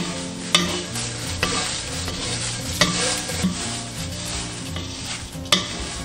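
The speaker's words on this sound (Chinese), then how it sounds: "把海苔倒入锅中，全程小火慢炒" Nori seaweed is stir-fried slowly in a pan over low heat, giving a soft steady rustle and sizzle broken by sharp clanks of a utensil against the pan every second or so, close and fairly loud.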